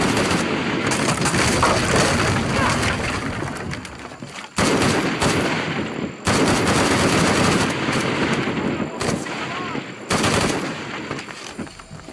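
Sustained automatic gunfire from a Shadow of the Tomb Raider cutscene, dense loud bursts with brief gaps, mixed with booming impacts and occasional shouted voices.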